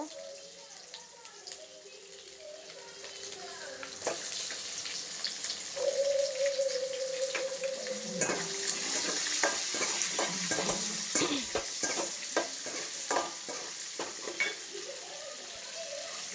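Garlic, ginger and small and large onions sizzle in a hot pan for a coconut-free spicy chutney, with repeated scraping and stirring strokes growing busier over the sizzle; a voice speaks faintly at times.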